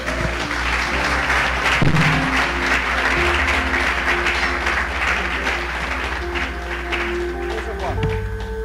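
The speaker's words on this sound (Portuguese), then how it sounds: "Uma salva de palmas." A church congregation applauds steadily and loudly throughout, a dense wash of many clapping hands. Faint voices and a few background tones sit under it.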